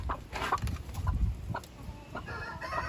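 Hens cluck softly in a coop with rooster sounds among them, a scattered run of short, quiet calls and rustling nearby.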